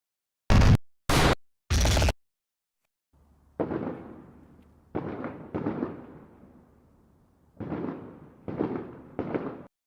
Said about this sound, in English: they were looking for like an explosion.